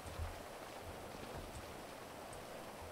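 Rain falls in the open-world game GTA 5 as a steady, faint hiss of rain on surfaces, even and continuous with a few soft low thumps, heard alone without talking.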